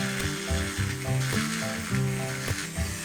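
An electric nail drill grinding off bio gel nails at home, a close, steady whirring hum whose pitch shifts repeatedly as the bit presses and lifts, with no talk.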